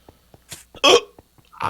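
A single hard, sharp hiccup bursts out loud and close, set against quieter clicks and small noises in a Minecraft game setting.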